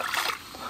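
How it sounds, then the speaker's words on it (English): A hooked fish thrashes at the surface, kicking up one short, loud, broad splash that quickly drops to a softer wash of water. "Dang, big splash."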